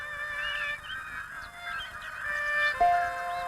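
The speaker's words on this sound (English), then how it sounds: "the wild geese return from the Arctic to yelp a warning of winter's coming" Wild geese honk and yelp in a wintering flock, several overlapping calls carrying steadily at moderate distance with no speech over them.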